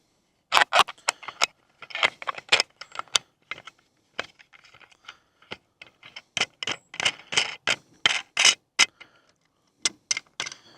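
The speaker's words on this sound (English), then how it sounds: "Then you run this hex bolt through it." A hex bolt is threaded through a trail camera's mounting bracket and tightened, giving an irregular run of small, sharp metallic clicks and ticks close by, with short pauses between bursts and no talking.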